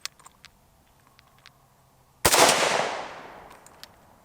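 An AK-74 rifle fires a single 5.45x39 round outdoors: one sharp, loud crack followed by a long fading echo, after a few faint small clicks and taps.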